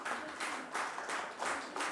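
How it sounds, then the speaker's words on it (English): Audience applause at a Disha Patani fan meet-and-greet, a dense wash of clapping that swells and dips in several waves, moderately distant and with no clear talk over it. "Please give them a big hand, ladies and gentlemen."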